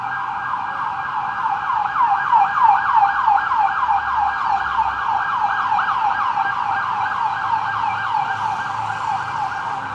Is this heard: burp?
no